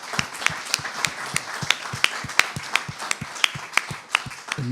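Applause for panel speakers at a digital industry conference, a sparse, fairly close clapping with distinct individual claps in a loose rhythm over a light background wash.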